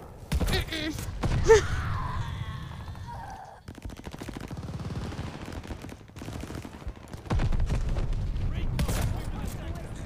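Combat shotgun firing in the Call of Duty Vanguard video game, several loud booming blasts in quick bursts amid other in-game gunfire, with someone talking over parts of it.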